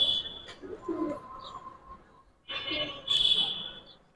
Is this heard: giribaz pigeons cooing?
yes